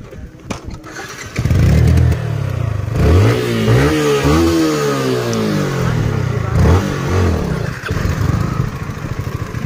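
Dusty motorcycle on a rough off-road trail, its engine starting and revving loudly close by, the pitch rising and falling in sweeps before settling into a steady idle.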